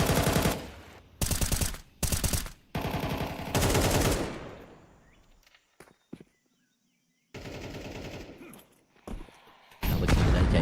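Automatic AK rifle bursts in Counter-Strike 2, several loud rapid-fire volleys in quick succession with short gaps, followed by quieter footsteps and ambient game sounds before another burst at the end.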